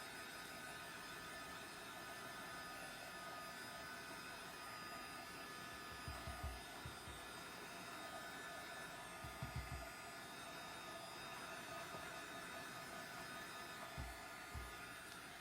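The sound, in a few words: noisy heat gun drying a layer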